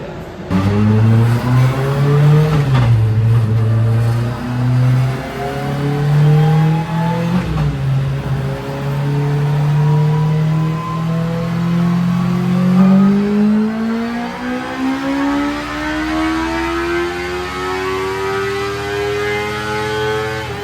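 A Miata swapped to a motorcycle engine revs hard on a dyno in a long third-gear pull, its high-pitched engine note climbing, dipping briefly twice, then rising steadily, loud and close with no talk.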